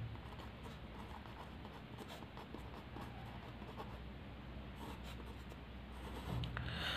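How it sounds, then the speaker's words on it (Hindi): Pen or marker writing out a divisibility rule during a Hindi math lesson, a continuous scratchy stroking close by, steady throughout with no talk. "अगला नियम लिख लेते हैं।"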